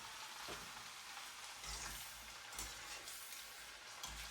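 Chips frying in a pan of hot oil, a soft continuous sizzle with scattered bubbling crackles, close but quiet, alone without talk.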